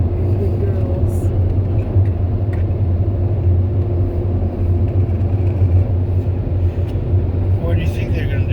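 An automatic car wash dryer blows a car dry with dogs inside, a loud steady low roar and rushing air filling the clip throughout.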